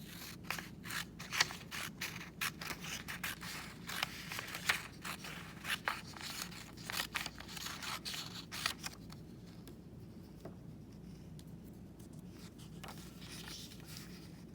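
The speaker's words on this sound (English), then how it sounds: "And then cut the line that you made, or you can just cut free." Scissors cut through a strip of paper in quick, rapid snips. The close, crisp strokes repeat steadily, then thin out and pause near the end against a quiet room hiss.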